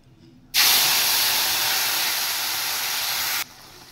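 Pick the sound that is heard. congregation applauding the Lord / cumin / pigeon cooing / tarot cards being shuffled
cumin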